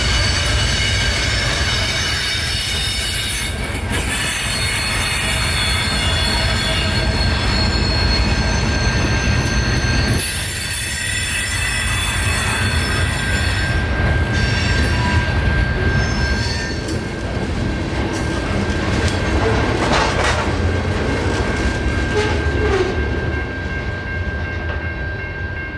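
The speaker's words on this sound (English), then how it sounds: "a CSX train calling signals through Dalton, and on top of that it was a unit coal train" A CSX unit coal train rolls steadily past through Dalton on the scenic W&A line, loud and close, with a sustained high-pitched wheel squeal riding over the rumble and rattle of the cars throughout.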